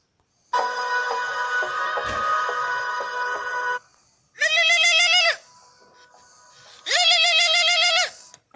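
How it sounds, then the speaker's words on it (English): A phone ringtone plays loudly and close: a long, buzzy electronic tone, then two shorter warbling bursts separated by near silence. "this one I'm taking Amit bhadana ka best ringtone"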